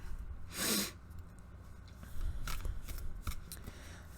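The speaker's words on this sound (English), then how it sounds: "Let's see if I can shuffle over here so you can see what's happening" Tarot cards are riffled and shuffled close up in a few quick bursts, with soft rustling and snapping between them and no talking.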